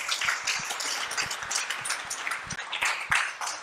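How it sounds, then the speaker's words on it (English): Demo day audience at a Le Wagon coding bootcamp in Montreal giving all the groups a round of applause, dense indoor clapping from a roomful of people, steady and fairly close, with a few louder individual claps standing out. "I would like to hear a huge round of applause again for all the groups"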